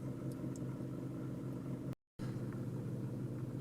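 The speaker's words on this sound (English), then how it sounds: "It's already idling better." A Toyota or Lexus engine idles after an idle reset relearn, following a battery disconnect, with a steady low rumble and an even hum, broken once by a short dropout midway.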